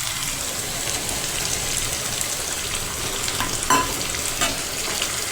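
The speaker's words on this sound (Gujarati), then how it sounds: "આપણે ટમેટાને હલાવીને મિક્સ કરી લઈશું અને હવે તેને સંતળાવા દઈશું" Tomatoes and onions sautéing in a pan for a sandwich filling, a steady soft sizzle with intermittent scraping stir strokes near the end, close and moderately quiet.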